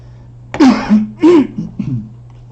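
A man coughs and clears his throat in a few short, close bursts during a geometry lesson, loud and alone, with no talk over them.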